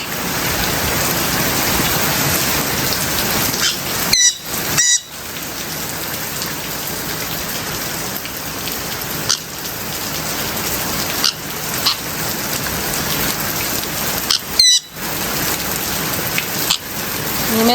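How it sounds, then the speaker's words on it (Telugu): Heavy rain pours steadily and loudly on an orchard farm, a dense continuous hiss with a few brief drops in level, and no talking. "పైగా అనుకోకుండా వర్షం పడింది"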